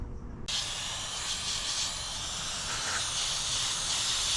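A can of brake cleaner sprays in one sudden, loud, continuous hiss that starts abruptly and holds steady up close, in work on a Honda Accord engine bay.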